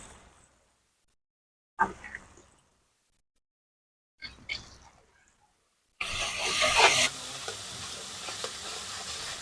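Sour yogurt spooned into sizzling spice masala in a pan for a hilsa fish dish, with a few short stirring scrapes separated by silence before a sudden loud burst of sizzling that settles into a sustained hiss.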